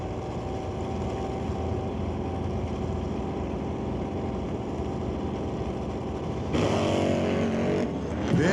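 A drag race car at a Pro class race idles with a steady droning engine, then launches with a sudden loud roar in a wheel stand near the end.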